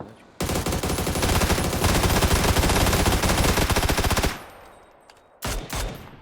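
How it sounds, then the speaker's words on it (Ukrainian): Continuous rapid automatic gunfire in a battle royale video game, loud and close for about four seconds, then a brief quiet gap before another short burst. "Всюди стріляють."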